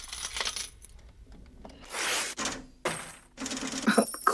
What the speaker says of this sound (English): Clear sound of money.